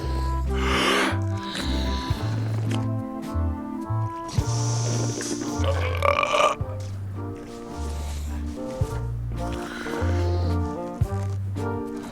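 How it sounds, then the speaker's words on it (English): Burping contest in the game Return to Monkey Island: a string of loud, drawn-out cartoonish burps and belches in turn over a bouncy musical score, with no talking. "how about a burping contest?"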